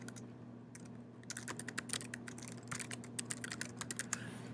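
Keystrokes on a computer keyboard while entering text into a blog page, a quick irregular run of crisp clicks in bursts, close and fairly quiet over a steady low electrical hum, no voices.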